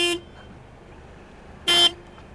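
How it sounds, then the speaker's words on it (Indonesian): The original horn of a red Toyota GR Yaris gives two short, bright honks, one at the start and another after a pause of over a second, with near silence in between. "Ini adalah klakson original."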